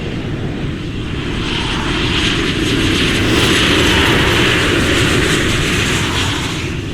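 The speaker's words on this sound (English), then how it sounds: "Flight crew, prepare for takeoff." Airplane engines roaring during takeoff, heard from inside the cabin as a loud, steady, broad roar that swells slightly and holds for several seconds.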